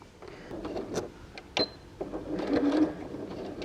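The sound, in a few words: sewing machine stitching a fabric cat purse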